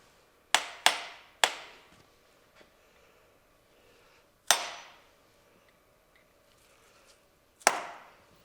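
Hammer taps on metal while a part is snugged into place during a 100-ton press brake build: five sharp, separate strikes with short ringing decays and quiet gaps between, close and loud with no talk.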